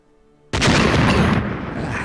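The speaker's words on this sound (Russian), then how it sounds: "Ну, сначала можно кинуть гранату, в принципе." A grenade explodes in the turn-based tactics game Silent Storm: Sentinels, one sudden loud boom after brief quiet, then a long rumbling decay.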